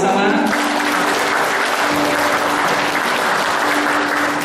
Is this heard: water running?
no